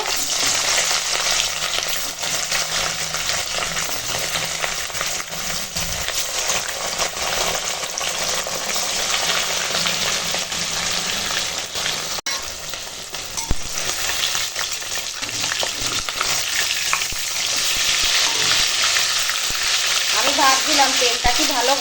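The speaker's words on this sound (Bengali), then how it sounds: "এখন মাছ ভেজে নেব" Rohu fish pieces frying in hot oil, a loud, dense, continuous crackling sizzle that holds steady throughout and swells slightly toward the end.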